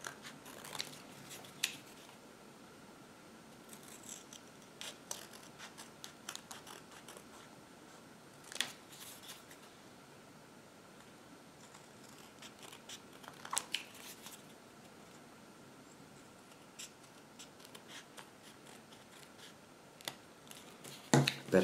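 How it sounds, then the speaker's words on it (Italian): Scattered snips and crisp paper crunches from scissors trimming excess paper from cardstock, irregular and close, with quiet rustling between cuts. "Io elimino subito l'eccesso di carta con le forbici."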